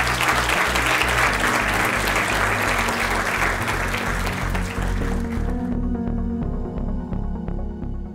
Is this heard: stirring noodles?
no